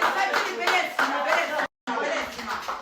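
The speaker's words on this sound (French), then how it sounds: "Applaudissez, oh." Audience clapping along with excited chatter and voices, close and fairly loud, broken by a brief silent cut before the clapping and crowd noise resume.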